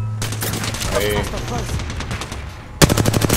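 Automatic gunfire in the video game Apex Legends, with a voice talking over a stretch of sustained background noise before a loud, rapid burst of shots bursts in near the end.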